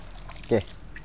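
Water poured onto a standard car floor mat, a single short splash lasting about a tenth of a second over low background noise.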